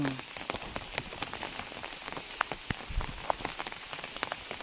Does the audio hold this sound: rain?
yes